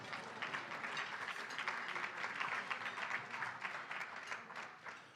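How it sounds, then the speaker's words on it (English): Steady, even applause from a crowded room at an award dinner, a fairly distant wash of many hands clapping that continues for several seconds. "give yourself a round of applause"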